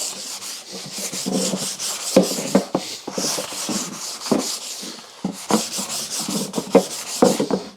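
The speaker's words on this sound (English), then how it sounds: "this is like what they call a combination rasp" Short rhythmic strokes of a combination rasp scrape varnish off a wooden garden tool handle, in close, rough bursts with brief pauses between passes and no talk.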